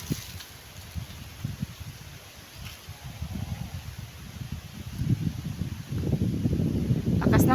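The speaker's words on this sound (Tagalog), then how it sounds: "lakas ng hangin guys" Strong wind buffets the microphone outdoors in the Philippine countryside. A low rumbling roar swells and builds steadily, growing loudest toward the end.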